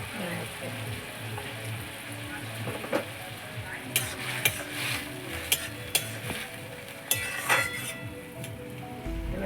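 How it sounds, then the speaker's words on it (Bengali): Food being stirred in a pot while cooking with salt, a little sugar and chili powder, a soft scraping and sizzling bed with several sharp clinks of a utensil against the metal rim, close and moderately quiet. "খুলে একবার নেড়ে দিই তলায় যদি সরে যায়"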